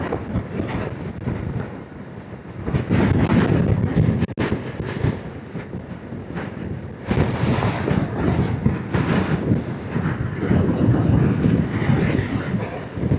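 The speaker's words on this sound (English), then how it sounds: "Wow, there's so much wind." Strong wind buffeting in an open rural area in Yunnan, China, a loud continuous roaring rush that swells and gusts throughout, close to the microphone.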